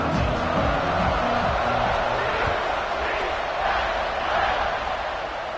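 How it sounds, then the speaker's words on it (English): Stadium crowd buzzing after a score in an NCAA college football video game, a steady dense roar of many voices filling the whole stretch, with a commentator talking over it. "this crowd is buzzing after that last score"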